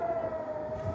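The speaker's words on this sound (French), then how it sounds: "Et voilà que la sirène retentit une nouvelle fois" Air raid siren wailing over an emptied Israeli town during a Hamas rocket attack, a steady sustained tone held loud and unbroken throughout, with low rumbling noise underneath.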